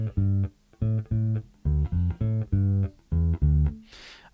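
A bass guitar plays the opening bars of a song in a steady line of distinct, punchy low notes in a walking rhythm, ending with a brief scrape of string noise.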